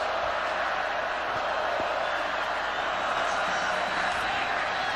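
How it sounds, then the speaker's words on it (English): A stadium crowd at the 2003 Oklahoma at Alabama college football game keeps up a steady, dense roar of voices, with Alabama fans chanting "Roll Tide" throughout. "They're still chanting "Roll Tide.""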